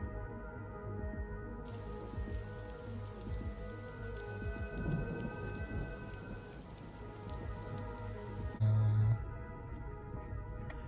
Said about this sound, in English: looking in the distance, storm's coming.